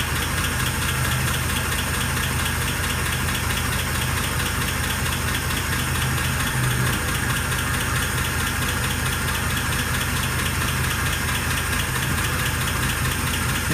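A 1948 Pontiac Torpedo engine idles steadily and loudly up close, its cast iron head carrying a continuous rumble with a faint repetitive tick woven through the running, and no voices over it.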